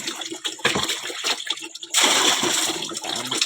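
Water is scooped and poured with a tabo dipper in the Philippines, in splashy bursts that pause and start again, the last pour longer and steadier, close and clear.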